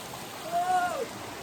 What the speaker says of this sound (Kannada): ಇಲ್ಲಿ ಫಾಲ್ಸ್ ಕೂಡ ಇದೆ, ಏನು ಸಖತ್ತಾಗಿದೆ ಅಂತ